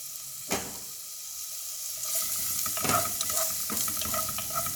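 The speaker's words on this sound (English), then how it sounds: "Now we are going to add some ginger garlic to it, and we are going to saute it." Ginger and garlic sauteing in oil in a cooking pot for a mushroom curry, a steady hiss with scattered stirring clicks and scrapes that grows busier and louder after the first couple of seconds.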